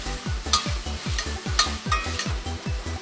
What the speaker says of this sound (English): Now I got my garlic. Cook that for about a minute.